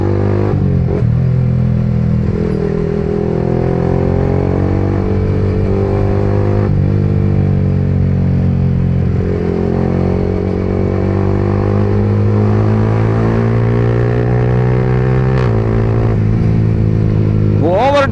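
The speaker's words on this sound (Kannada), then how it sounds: "most powerful 150cc bike in the segment ಇದು ಗಾಡಿ" A 2025 Yamaha R15M 150cc motorcycle runs at high speed with a loud, steady engine drone whose pitch climbs and drops through gear changes, while a rider talks over it.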